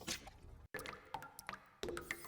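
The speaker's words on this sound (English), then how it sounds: "Warm droplets of water fall into my nose." Water droplets drip in the horror game Wet Steps, a few soft, close plinks and wet squishes spaced irregularly in a quiet room.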